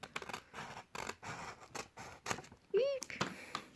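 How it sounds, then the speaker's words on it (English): Scissors snip through a thin strip of paper being cut for an A4 origami star, giving a run of close, scratchy cuts with a short squeaky vocal sound partway through. "So I'm gonna cut out one of these strips"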